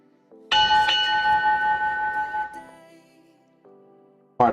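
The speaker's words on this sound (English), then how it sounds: "Pardon my double shift bell there." A bell rings out loudly with a bright, sustained metallic tone that slowly decays, followed by a quieter ringing tone and a final sharp strike at the end, with no talking.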